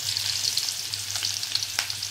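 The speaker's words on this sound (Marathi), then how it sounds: "आता कांदा घालून घेते" Onion added to hot oil in a kadhai for tempering, giving a bright continuous hissing sizzle with small pops, close and fairly loud over a low hum, no talking.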